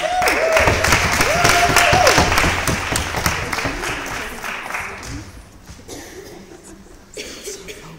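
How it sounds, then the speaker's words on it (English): Debate audience applauding, a loud, dense burst of clapping mixed with chuckles that swells early and fades after several seconds, with a voice and scattered laughter continuing over the dying clapping. "No, I'll take the applause, thanks."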